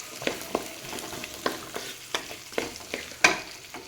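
Small onions fry in a pan while a spoon stirs them, giving about a dozen distinct scraping strokes at an uneven rhythm over a soft, continuous sizzle, close and moderately loud.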